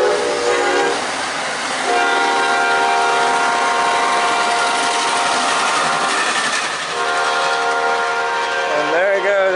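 Southbound Amtrak 89 passenger train rumbles past close by with a loud sustained horn blast, wheels clattering on the rails, noise staying strong before easing slightly at the end.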